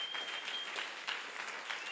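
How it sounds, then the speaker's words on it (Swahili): Church congregation clapping for the Lord in a steady, dense round of applause, moderately loud and continuous for a couple of seconds with no talk. "Pigieni Bwana Yesu makofi."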